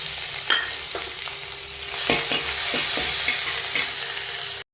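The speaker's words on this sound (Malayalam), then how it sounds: "ഇനി നമുക്ക് ഇഞ്ചി, വെളുത്തുള്ളി, കറിവേപ്പില ഇവ ചതച്ച് വെച്ചിട്ടുണ്ട്, അതോടെ ഇട്ട് കൊടുക്കാം" Crushed ginger, garlic and curry leaves dropped into hot oil while cooking a chicken curry, a loud steady sizzle that swells after about two seconds, punctuated by several sharp spoon scrapes and taps against the pan, ending abruptly.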